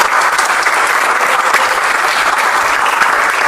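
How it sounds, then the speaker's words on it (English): A school district candidate forum audience breaks into loud, sustained applause, a thick continuous patter of many hands clapping close by, with no speech over it. "Yes, let's give them a round of applause."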